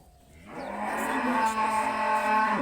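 A dairy cow lets out a long, loud moo that rises and holds steadily, heard up close.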